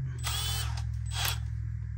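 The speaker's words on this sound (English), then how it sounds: "I'm gonna drill through the center of it." A small power drill bores through the center of a 1/64 scale model wheel, a steady motor drone with two loud, whining bursts as the bit bites in, close by.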